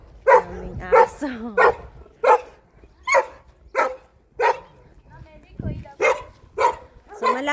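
Several dogs bark in short, repeated bursts at a steady pace, close by and fairly loud, outside houses in a residential area near Beauvais, France, with a few whimpering yips between the barks.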